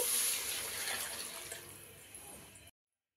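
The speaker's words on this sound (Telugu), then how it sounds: "ఇప్పుడు ఇదే అలాకతో 2 అలాకులు నీళ్ళు పోసుకుంటున్నానండి" A cupful of water splashes from a tap-like stream onto basmati rice for ghee rice, a near, fairly soft pour that fades slightly before stopping abruptly into silence.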